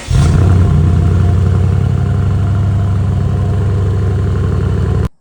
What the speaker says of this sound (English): You can definitely hear the exhaust at idle versus the stock non-M exhaust.